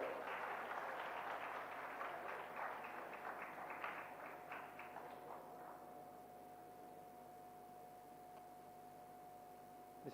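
An audience applauds a speaker at a computing and artificial intelligence conference, a dense steady clapping for about five seconds that then fades out, leaving a quiet hall with a faint constant hum.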